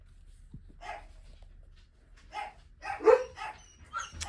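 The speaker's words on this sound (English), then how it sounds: "my wife's home and the dogs are barking" Dogs barking somewhere inside a house, a few short bursts and yips spread out and fairly distant, faint against a quiet room.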